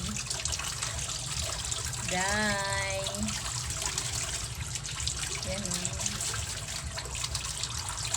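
A pet gets a bath on a hot day, water running and trickling steadily and close by, while someone speaks briefly over it.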